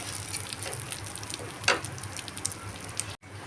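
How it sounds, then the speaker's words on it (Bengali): Two kinds of lentils are lightly dry-fried in a pan over low gas, giving a soft, even sizzle with light stirring rustles and one brief louder scrape, close but fairly quiet. "গ্যাসের আঁচটা একটু কম করে এই দুই রকমের ডাল একটু হালকাভাবে ভেজে নিতে হবে"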